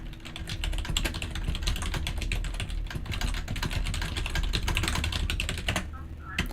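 Furious typing on a computer keyboard: a dense, rapid stream of close, crisp key clicks that runs steadily throughout.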